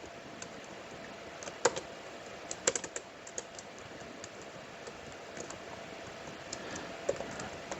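Steady typing on a computer keyboard, soft rapid key clicks with a few sharper taps, close up over faint background hiss.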